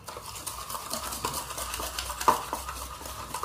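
Wheat cookie batter for eggless cookies being whisked in a bowl, a continuous scraping, stirring swish with light clinks of the utensil against the bowl and one sharper knock near the middle.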